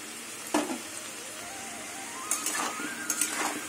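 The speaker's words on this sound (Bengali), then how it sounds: "গাটি কচু ভাজা হয়ে গেছে" Chunks of taro root frying in oil in a home kitchen, a soft continuous sizzle broken by a few sharp stirring scrapes, fairly quiet with no talk.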